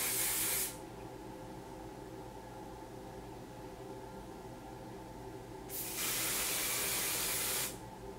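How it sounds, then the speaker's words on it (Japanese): Hairspray sprayed to set a pin-up hairstyle, two loud hissing bursts, one short at the start and a longer one about two seconds long later, with quiet room tone between. "そしたら、このここを全部もうスプレーで固めちゃいますね。"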